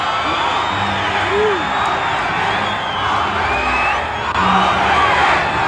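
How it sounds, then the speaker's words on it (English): A large crowd of young people waiting in line outside San Diego Stadium makes a continuous roar of distant yelling and whoops, with some nearby voices rising over it. "at times the crowds were yelling for the gates to open"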